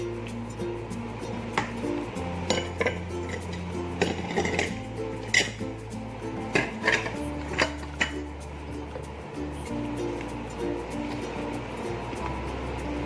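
A fish dough for pempek, made with fish flavouring, is stirred in a bowl, with a utensil clinking and scraping steadily against the sides over a low background hum.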